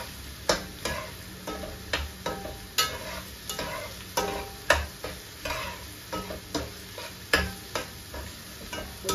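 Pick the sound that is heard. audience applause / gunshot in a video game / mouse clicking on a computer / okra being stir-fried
okra being stir-fried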